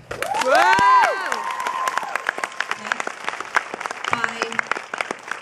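Brief loud cheers and whoops burst from an audience at a movie Q&A with Tegan and Sara in Austin, then settle into sustained clapping with scattered shouts, with a voice speaking briefly near the end.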